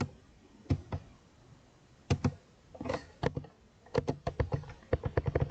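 Keys on a computer keyboard clatter in irregular bursts of clicks, some single presses and some quick runs, close and quiet in an otherwise still room.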